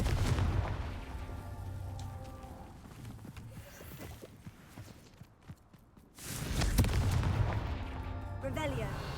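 Fiery Confringo spell blasts crack out in a Hogwarts Legacy Merlin trial, several sharp bursts over a dense game backdrop, with a lull midway before a loud, close burst returns.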